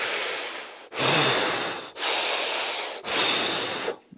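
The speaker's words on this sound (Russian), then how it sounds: "таким вот образом дышит 30 раз" Four deep, forceful Wim Hof method breaths in quick succession, each a loud rushing inhale-exhale with brief gaps between, close to the microphone.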